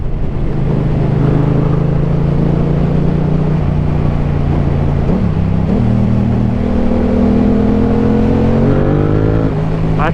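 A Yamaha R7 motorcycle engine pulls hard while being ridden, its loud, steady drone climbing through several gear steps with brief dips at each shift, close and continuous with no voices.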